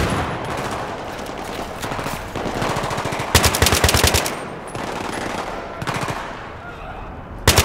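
Machine gun fire in the Battlefield 3 campaign mission Operation Guillotine rattles out in loud, close, repeated bursts of rapid shots, separated by brief pauses and backed by the game's ambient noise.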